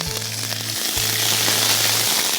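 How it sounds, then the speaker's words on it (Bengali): Onion paste hits hot oil with bay leaves and cardamom, producing a loud continuous sizzle and crackle that fills the pan, with a low electronic tone underneath. "তেজপাতা এবং এলাচটা একটু জাস্ট গরম হতে হতে আমরা এখন দিয়ে দিব হচ্ছে পেঁয়াজ বাটা"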